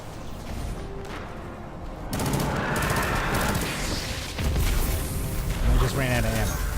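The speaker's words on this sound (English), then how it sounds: "They call it a shotgun, but it doesn't fire like a shotgun." Exotic shotgun in Destiny 2 firing like a pulse rifle, with rapid bursts of shots in dense, loud gameplay audio. A voice talks over the shooting.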